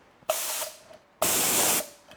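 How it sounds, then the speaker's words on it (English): A paint spray gun lays clear coat on a BMW E92 320D in two close, even hissing bursts, the first short and the second longer, with brief quiet between them. "when you go a bit back, it rounds off the edges and it's a nice even spray"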